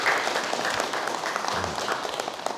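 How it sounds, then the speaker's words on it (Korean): A gathering at a Buddhist mind-study session claps for a participant, a short, moderately loud patter of hands from a room of people. "박수 한번 치세요"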